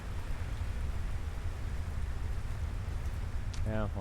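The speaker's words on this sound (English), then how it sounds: "Yeah, well, it does have to be raining." Steady rain in the video game Final Fantasy XVI hisses evenly throughout, a dense wash of falling drops with low rumble beneath, and a voice briefly cuts in near the end.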